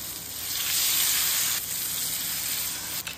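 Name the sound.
bread frying in oil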